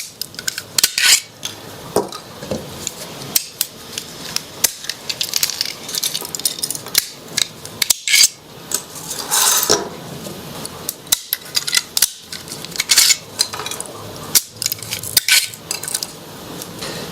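Supports being broken and snipped off 3D-printed melting jack-o'-lantern candle sets, heard as a rapid, irregular series of sharp plastic clicks and snaps close by.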